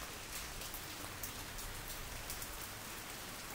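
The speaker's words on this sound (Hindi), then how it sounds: "यहाँ पे बहुत बारिश हो रही है" Heavy rain pours steadily and loudly on surfaces outdoors, a dense unbroken hiss of drops with no voices.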